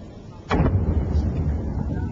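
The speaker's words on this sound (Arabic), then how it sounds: "إذن طائرة الأباتشي تطلق صاروخا آخرا على هدف في الجزء الشمالي من مدينة غزة" A distant explosion from a missile fired by an Apache helicopter at a target in northern Gaza City, a single dull boom followed by a low rumbling tail.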